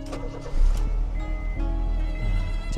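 A Honda Jazz RS GE8 engine catches and settles into a low, steady idle hum, with a brief swell in level just after the start, heard close and alone.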